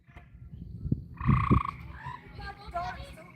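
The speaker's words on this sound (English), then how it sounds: "Listen to the tree frogs." Tree frogs at an Idabel, Oklahoma homestead give a few croaking calls over a rumbling outdoor background, moderately loud, with faint noise that may include a voice.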